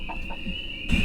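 A few brief clucks from hens nearby over a steady, high insect-like hum, ending with a short louder burst.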